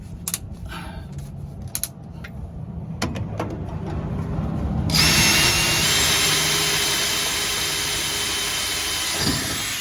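A drill bit boring a hole for exhaust cutouts on a 1967-72 Chevrolet C10, with scattered short bursts of drilling followed by a louder, sustained whine of the bit cutting through metal, up close.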